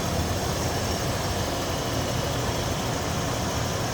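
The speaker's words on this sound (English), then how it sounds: "How smooth that runs." A one-owner 1987 Ford F-150 Supercab XLT Lariat 4x4 engine idles smoothly, a steady even rumble with broadband hiss and no talking.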